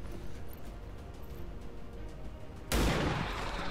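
A sniper rifle shot in a video game cracks out suddenly as one loud, sharp blast, followed by a broad lingering roar after a stretch of low background noise.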